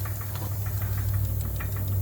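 A John Deere S130 lawn tractor engine idles with its clutch disengaged, giving a steady low hum with a faint rapid ticking or knocking running through it, loud and close, with no talk.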